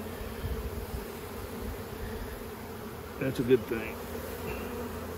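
Honey bees buzzing steadily at an opened hive during maintenance, a constant close drone with a brief louder burst as one passes near, while a person speaks briefly.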